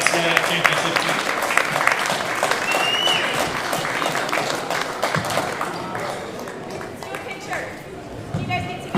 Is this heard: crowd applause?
yes